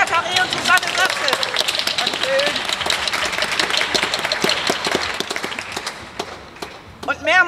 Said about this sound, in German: Ein dicker Applaus für Jacaré